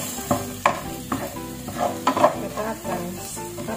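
Potatoes fry and get stirred in a pan for a corned beef with potato and peas dish, with spatula scrapes and clatters landing in an irregular rhythm over a steady close sizzle.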